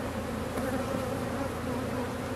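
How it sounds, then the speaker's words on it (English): A dense, continuous buzz of many forager honeybees coming into a hive box close by, steady and fairly loud with no voices. "All these forager bees are coming in."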